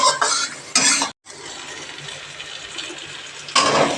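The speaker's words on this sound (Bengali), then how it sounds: "এখন মশলাগুলোকে একটু ভালো করে ভেজে নেবে।" Spices with turmeric fry in a pan for a bottle-gourd and chana dal curry. A spoon stirs and scrapes in short bursts, with a brief pause and a low sizzle between strokes.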